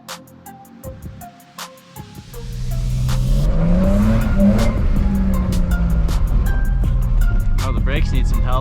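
A BMW E36 drift car pulls away down a street, its engine building from quieter idle sounds into a loud, sustained drone with a rising rev, close to the listener, with faint voices early on.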